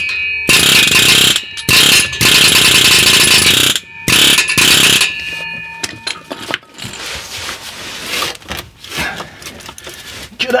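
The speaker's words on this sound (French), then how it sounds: "moi j'y vais au marteau pneumatique" A pneumatic hammer knocks rust off the exhaust silencer of a Peugeot 207, loud close rapid bursts of hammering in several runs with short pauses, then quieter scraping and clanking of metal.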